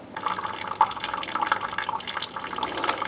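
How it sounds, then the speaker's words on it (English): Water from a Sawyer gravity filter runs and trickles into a container, a close, steady liquid flow with light splashing and dripping and no talk. "there's a really steady flow of water through those very fine microscopic pores"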